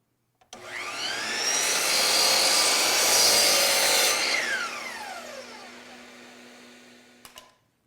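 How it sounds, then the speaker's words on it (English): A miter saw cuts wood trim at an angle: the motor spins up sharply, whines loudly through the cut for several seconds, then winds down with a falling tone and a final clunk. "take it to my miter saw, and make that miter cut"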